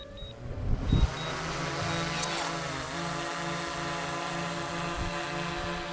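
A camera drone flies over private land with a waterfall, its steady propeller whine holding a constant tone throughout, with a brief louder rustle near the start.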